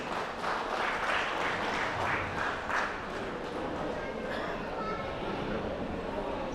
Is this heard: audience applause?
yes